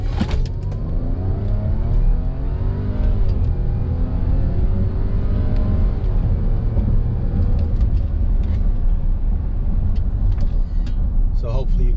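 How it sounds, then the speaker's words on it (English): A supercharged car in sport mode accelerates hard with a deep, rising engine roar and sweeping gear-change tones, and a high supercharger whine climbs through the pull, close and loud, with no talk. "I'm just going to do a quick pull so you can hear the difference before and after for the supercharger wine."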